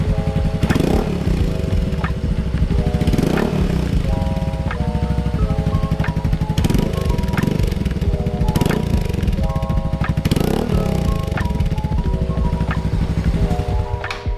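A Yamaha Mio i 125S scooter fitted with an Akrapovic exhaust revs loudly and continuously nearby, its engine note rising and falling through several throttle blips.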